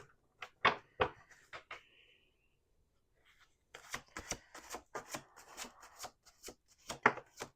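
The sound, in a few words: shuffling tarot cards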